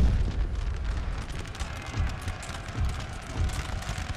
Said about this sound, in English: My howitzers unlimber and can begin firing.